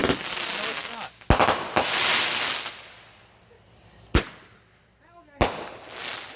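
Fireworks go off in a series of sharp, loud bangs and crackles, several separate bursts spread across the span with a hissing, rumbling wash between them and voices faintly in the background.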